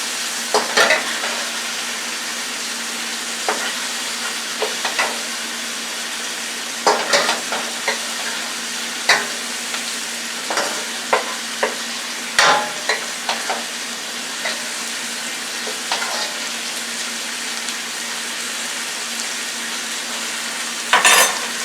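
Onions and peppers sauté in a pan with a steady sizzle throughout, broken by scattered clinks and scrapes of a utensil stirring against the cookware, with no voices.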